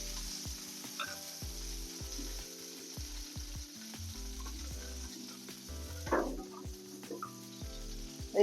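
Tomatoes and green chillies sizzle in a spoonful of oil in a wok, a soft steady frying hiss punctuated by scraping stirs and occasional louder spits, with no talking.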